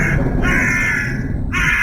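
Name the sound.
crow cawing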